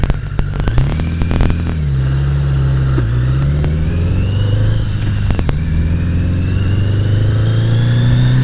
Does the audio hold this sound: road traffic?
yes